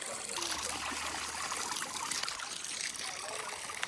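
Water trickles steadily through a jungle clearing, a soft, continuous babbling stream heard close but faint, with no voices.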